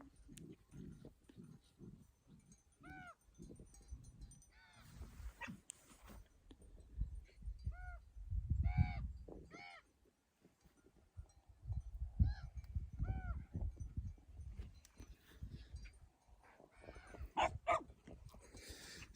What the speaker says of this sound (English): that moment of quietness with the crows and the doggies in the background